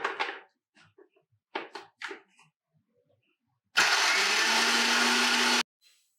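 A kitchen blender grinds onions into a paste for a Rampuri mutton korma, one loud steady whir lasting about two seconds after a few short knocks and clatters.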